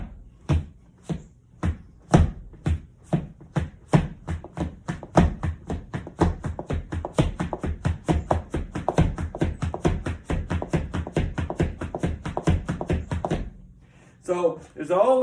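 Clogging feet strike heels and toes in a steady, chugging rhythm that imitates a train, with many crisp, close taps and thumps repeating for several seconds before a short pause.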